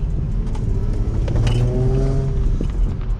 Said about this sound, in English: I hate that exhaust rattle.